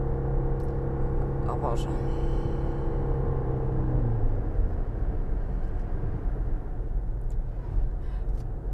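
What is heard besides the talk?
Toyota Prius PHEV combustion engine running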